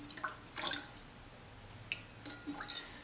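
Cool water splashed onto a face during a facial, giving a few scattered soft drips and splashes of water, close and fairly quiet, with short pauses between them and no talk.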